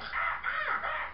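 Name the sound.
bird squawking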